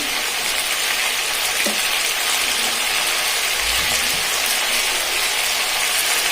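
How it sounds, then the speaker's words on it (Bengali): Cauliflower frying in a pan gives a dense, steady sizzle and hiss while it is tossed and stirred. Occasional scraping knocks come through, and no one speaks. "এভাবে একটু উল্টিয়ে পাল্টিয়ে নাড়াচাড়া করে নিতে হবে কপিগুলো।"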